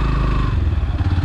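A Yamaha FZ-S V3 BS6 fuel-injected motorcycle running while ridden, its steady low engine drone close and continuous with faint clatter, no talk over it.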